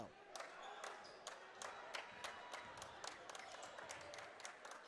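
Team bench clapping at a boys high school basketball game in a gym, sharp rhythmic hand claps repeating steadily with faint crowd murmur and court noise underneath and a commentator talking over it.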